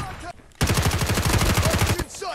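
Rapid automatic gunfire in COD Mobile, one steady burst of evenly spaced, close, loud shots lasting about a second and a half, with brief quieter game sounds before and after.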